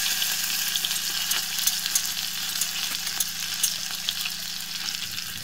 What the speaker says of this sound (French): Une fois que celui-ci a fondu, on verse notre farine.